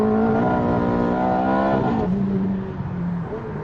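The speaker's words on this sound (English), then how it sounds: "The best bit about this new 430 is the engine." Ferrari F430 V8 engine revving hard and climbing in pitch, then shifting down to a lower note as it keeps pulling, loud and close, with no talking.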